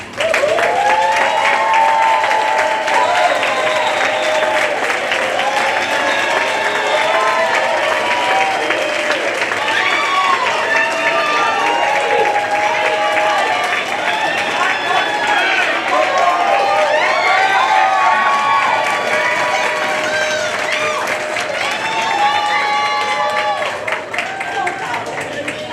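Staff at an end-of-year school meeting applaud and cheer for first-year teachers standing up, steady loud clapping mixed with crowd voices and chatter throughout.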